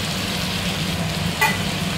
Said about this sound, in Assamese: বিলাহী দি অলপ দেৰি ভাজি লম